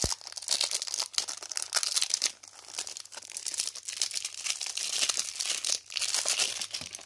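Plastic packaging on a Shein makeup item is crinkled and torn open up close, with continuous sharp crackling and ripping bursts for several seconds and no talking.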